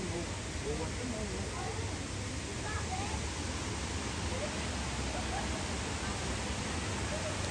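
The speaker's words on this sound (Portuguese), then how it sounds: "a gente acabou passando em frente à Ducha de Prata, que é uma cachoeira que tem aqui" The Ducha de Prata waterfall in Campos do Jordão gives off a steady, dense rush of falling water that fills the whole stretch without a break.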